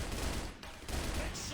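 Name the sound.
gunfire and grenades, from the video game CrossFire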